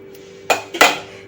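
A spoon scrapes and knocks against a metal container as freshly ground chutney for dahi vada is transferred, two sharp close clinks in quick succession.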